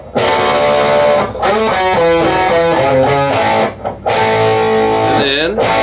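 Guitar playing section 3 of a song, a bright, busy run of strummed chords and riff notes with short pauses between phrases, loud and close throughout.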